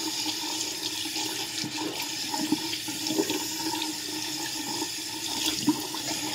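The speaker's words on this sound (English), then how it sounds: "get some hot water going" Hot water runs steadily from a tap into a sink, a continuous close splashing rush with no speech over it.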